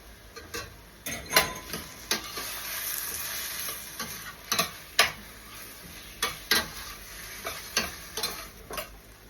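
Okra and salt mackerel sautéing in a pan, a steady close sizzle broken by repeated scraping stirs and sharp spoon clicks against the pan at an irregular rhythm.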